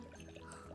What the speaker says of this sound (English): I'll pour the water in, okay?